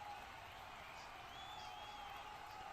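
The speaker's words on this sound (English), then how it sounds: "It's a song of choice in the Spanish crowd." Spanish football fans at a World Cup match against Saudi Arabia, a distant crowd in a stadium singing together, a steady wash of voices with a faint melody carrying over the noise, no clapping bursts.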